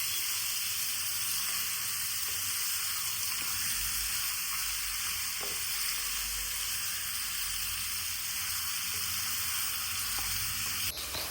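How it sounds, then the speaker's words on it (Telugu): Marinated chicken pieces frying in oil make a dense, continuous sizzle at steady loudness for the whole stretch, close by, with a few faint clicks and no talk. "చికెన్ ముక్కలకి ఆయిల్లో అంతా మొత్తం మంచిగా మిక్స్ అయ్యేదాకా మంచిగా ఫ్రై చేసుకోవాలి"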